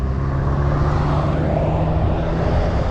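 A Yamaha N Max 155 Neo S fuel-injected scooter engine running during a test ride, a steady low drone with wind rumble, close and continuous with no talk.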